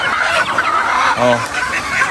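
Farm chickens clucking close by, with a distinct burst of clucks in the middle over a busy outdoor background of other fowl and faint noise.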